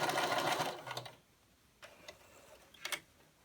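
A sewing machine runs in a loud continuous burst as quilt squares for a baby crib quilt are stitched together, then stops, leaving a few soft clicks and short whirs.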